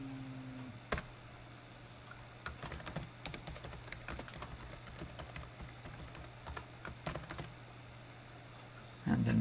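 Rapid typing on a computer keyboard while writing an email, with steady irregular key clicks and occasional louder taps over a low hum, close and alone with no talk.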